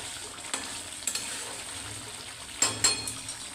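Whole garam masala ground to a paste is added to matar paneer simmering in a pan, giving a low continuous sizzle broken by a few sharp stirring scrapes and splashes near the end, with no talking.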